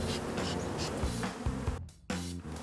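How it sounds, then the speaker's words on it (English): Agitated bees buzz densely and loudly up close during a hive removal, a continuous insect drone with a brief drop-out near the end. "I think the bees are starting to get a little bit agitated."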